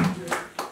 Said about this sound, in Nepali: ताली राम्रै बज्छ.